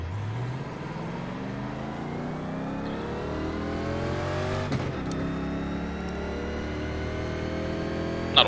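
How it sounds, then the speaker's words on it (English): A NASCAR Legends stock car, a 1987 Pontiac, starts in iRacing at Las Vegas, then its engine hums steadily and climbs slowly in pitch, loud and close, with one sharp knock partway through and no other cars. "Start the car up."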